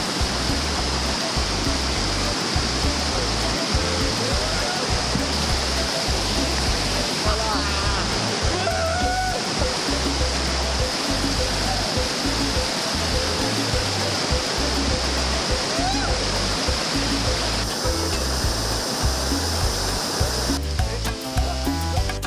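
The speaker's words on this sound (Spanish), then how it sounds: "La cristalina agua de la naciente del río Tioyacu da la bienvenida a un espectáculo" Crystal-clear spring water at the source of the Tioyacu river in the Peruvian jungle rushes steadily, a loud, continuous broadband roar of flowing water close by, with faint voices briefly audible.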